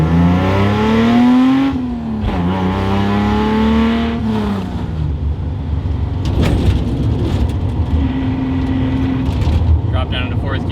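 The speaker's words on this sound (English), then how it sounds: "I can cruise like this. There's a little bit of drone, but it's still pretty reasonable." A Datsun 280Z fitted with a Fujitsubo-style muffler cruises with the windows down, its steady low exhaust drone running throughout, with a voice heard over it at times.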